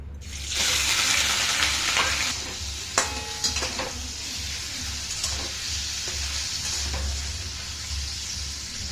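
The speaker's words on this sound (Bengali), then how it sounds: "পনিরটাকে ভেজে নিচ্ছি" Paneer fries in white oil with a loud, close, steady sizzle, joined now and then by clinks and scrapes of a utensil in the pan and a low hum underneath.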